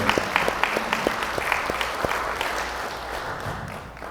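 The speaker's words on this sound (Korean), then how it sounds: "나오실 때 큰 박수 부탁드리겠습니다" Audience applause in a Korean forum hall as the foundation chairman steps up to greet attendees, a steady wash of many hands with sharp individual claps standing out, gradually thinning toward the end.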